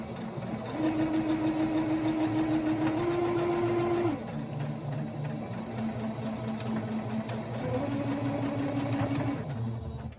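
Sewing machine stitching a small fabric tarot card bag, running in long steady bursts with a brief slowdown midway, close and loud with no talk.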